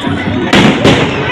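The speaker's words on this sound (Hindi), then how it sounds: "सबने मिलके स्काई शॉट्स चलाए।" Sky shot fireworks bursting during a Dussehra celebration in Nehru Vihar, with two sharp, loud explosive cracks about a third of a second apart over steady crowd noise and chatter.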